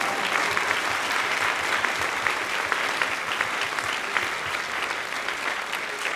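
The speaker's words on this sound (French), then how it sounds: "On s'applaudit." A theatre audience claps steadily and densely throughout, a full even wash of applause with no pauses.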